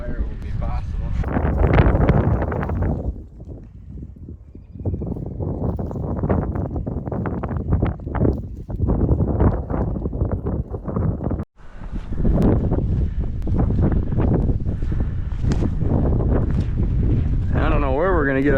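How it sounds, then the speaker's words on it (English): Strong wind buffets a microphone on a river island, roaring in heavy gusts with brief lulls, loud and close, while people talk beneath it. "The wind is really whipping right now, so apologize if you can't really hear me."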